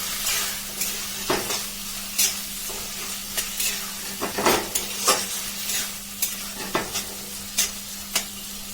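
Bean and fish bhorta is sautéed in a pan, with a steady sizzle under repeated scraping strokes of a spatula, each stir a short loud rasp at an uneven rhythm.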